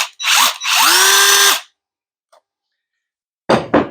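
Ryobi PCL265K1 18V cordless 1/2-inch impact wrench run in loud, close bursts: a short whir, then a longer rising whine, a faint click, and two more brief whirs.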